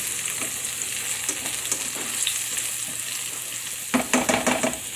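A pot of potato broccoli cheddar soup stirred on the stove, steady close sizzling and bubbling under occasional soft scrapes, then a few clattering knocks of the utensil against the pot near the end.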